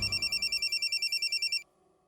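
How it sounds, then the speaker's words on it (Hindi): A telephone rings in a rapid, trilling electronic pulse for a second and a half, then cuts off into near silence. "मनोहर को फोन लगा।"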